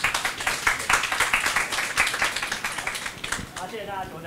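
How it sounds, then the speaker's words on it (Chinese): A tech-talk audience claps to welcome the next presenter at a Python and Linux session, with dense, close applause fading after a few seconds while a voice talks over it. "请掌声欢迎。"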